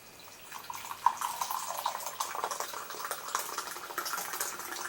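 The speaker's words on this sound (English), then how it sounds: "now that it's been steeped for the amount of time, you're just going to want to pour it out." Steeped tea poured from a container into a clear glass, a soft, quiet liquid trickle running steadily for several seconds with faint splashes and no talking.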